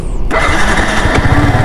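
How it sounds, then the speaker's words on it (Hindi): A Yamaha R15 V1 first-generation motorcycle engine and exhaust, loud and close, starting abruptly after a short quiet moment and then revving steadily with a rough, throbbing exhaust note and no talk. "तो एग्जॉस्ट साउंड आपको सुनाई देता है।"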